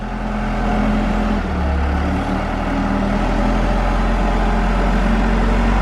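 A heavy concrete truck named Bertha, loaded to about 31,600 pounds with concrete on the front, drives with a loud, steady low diesel drone and engine rumble that shifts slightly in pitch partway through.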